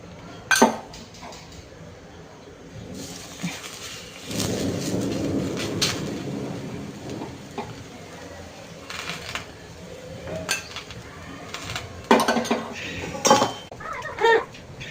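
Metal pan and utensils clattering on a stovetop while an aloo paratha fries, scattered sharp clinks and scrapes with a stretch of softer sizzling in between, close and fairly loud.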